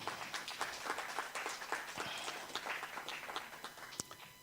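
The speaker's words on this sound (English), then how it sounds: "Please, ladies and gentlemen, can you clap hands for Ms." Audience applause for a speaker at an Earth Hour event, a steady patter of many hands clapping at moderate distance, fairly faint and continuous without talk.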